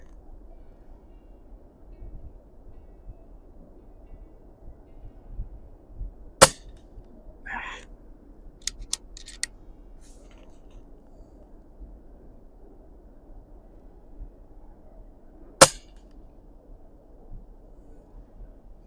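Two sharp, isolated shots from a Notos G2 air rifle fired at a 50-yard target outdoors, a few seconds apart, with small clicks and handling noises between them over a quiet low background.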